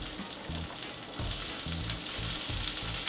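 Mushrooms and onions fry in a pan, making a steady, moderately loud sizzle with soft low thumps from stirring, and no voices.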